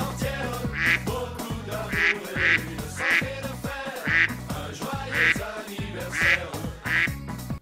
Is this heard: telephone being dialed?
no